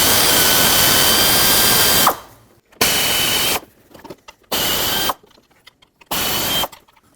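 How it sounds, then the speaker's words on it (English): An air ratchet removes bolts from a 4.0L V6 Ford Ranger engine: four loud, close, sharp whirring bursts, each lasting about half a second to two seconds, separated by short quiet gaps. "to speed things up, I'm just going to use an air ratchet"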